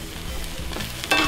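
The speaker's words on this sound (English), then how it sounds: "Stir fry onions a little bit." Onions stir-fried in a pan for Seattle-style hot dogs sizzle steadily while a utensil scrapes and stirs, ending in a sharper burst of frying; no one speaks.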